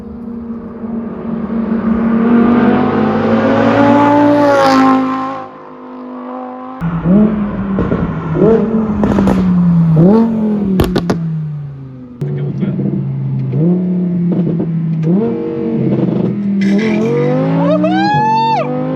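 An Audi R8 V10 with a modified secondary exhaust revs hard and loud, its pitch climbing and dropping through repeated bursts of acceleration and gear changes, with brief lulls between pulls.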